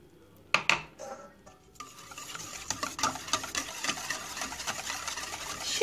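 Yeast dough mixture for soft potato puff pastries being stirred in a bowl, a steady run of scraping, sloshing strokes after two sharp clinks at the start, close and moderately loud with no talking.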